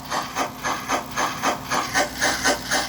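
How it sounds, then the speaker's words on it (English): Rhythmic breathy chuffs from a model train soundboard on a Royal Blue locomotive chassis under bench test, about eight evenly spaced hissing bursts, close and steady with no talk. "it triggers this soundboard over here to send out a chuff sound"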